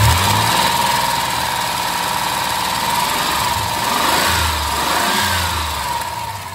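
Car engine revved up while parked, with an aging car that has a suspected exhaust leak; a loud, close, continuous mid-pitched roar that swells and eases as the throttle rises and falls.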